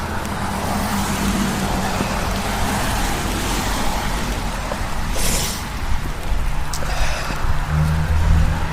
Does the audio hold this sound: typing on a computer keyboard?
no